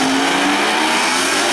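Drag racing car launching hard down the strip at Maryland International Raceway, a loud, sustained high-pitched engine roar at close range with a steady whine and no talk.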